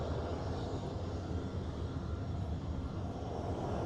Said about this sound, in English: we've got another beast in Blackpool today. And it's this RAF C-17 Globemaster.